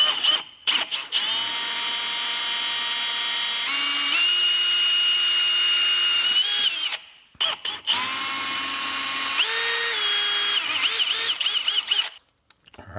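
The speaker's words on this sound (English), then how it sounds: "get the holes drilled and we'll get it installed." A power drill with a 7/16 bit bores bolt holes in a home garage, two long high whining runs that step up in pitch as the bit bites, close and loud, separated by brief pauses and clicks, with nobody talking.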